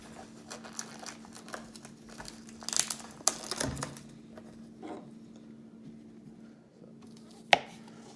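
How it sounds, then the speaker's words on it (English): Knife slicing baby portobello mushrooms on a cutting board, with a cluster of soft chopping taps in the middle, a few scattered lighter cuts and one sharp knock near the end, all fairly quiet. "I decided to go with these baby portobellos, and I'm going to slice them up."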